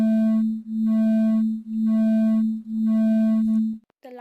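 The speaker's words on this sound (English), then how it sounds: "Beats are the alternating loudness and softness of a sound wave due to the interference that happening here." Two steady interfering pure tones produce acoustic beats, a sustained hum that swells and fades in four slow, regular pulses before cutting off, followed by a brief chirping blip.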